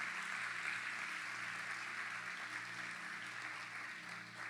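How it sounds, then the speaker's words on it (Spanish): A church congregation claps together in a steady, dense patter that stays fairly even from start to finish, with no voices rising above it. "Pero le damos un aplauso fuerte"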